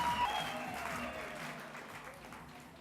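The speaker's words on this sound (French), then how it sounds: "Merci de vos chaleureux applaudissements." Faint applause from an audience at a campaign launch speech, soft and distant, dying away gradually over a few seconds alongside a thin tonal hum.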